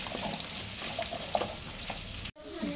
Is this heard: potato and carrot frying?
yes